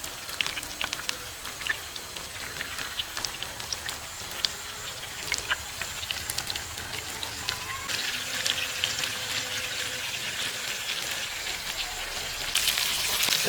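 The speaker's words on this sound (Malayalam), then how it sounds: "അപ്പോൾ നമുക്കൊന്ന് ഫ്രൈ ചെയ്തെടുക്കാം. ഗൈസ് അപ്പോൾ നമുക്ക് മീൻ ഇട്ട് കൊടുക്കാം." Fish sizzles and spatters in a pan for a Kerala-style fish fry, a quiet, steady crackle with scattered sharp pops that grows a bit busier and louder near the end.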